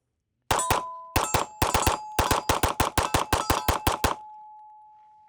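Rapid handgun fire from a compact concealed-carry pistol at a shooting range: about fifteen loud, sharp shots in quick bursts, ringing with a metallic clang, then a short fading tone.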